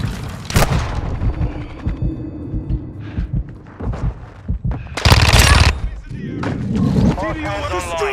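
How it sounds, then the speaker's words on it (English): Gunfire and grenade blasts from the video game Call of Duty: Modern Warfare II, with bursts of automatic fire and booming explosions, a heavy blast near the middle, over a constant rumble of battle, with in-game voices calling out throughout. "Throwing grenade! I'm taking enemy fire!"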